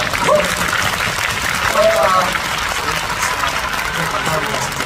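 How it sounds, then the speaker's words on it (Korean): A concert crowd claps for the staff on the last night of a K-pop show, dense applause that carries through with faint voices and brief tonal sounds mixed in. "여러분들도 저희 스태프분들에게 박수 한 번만 부탁드리겠습니다"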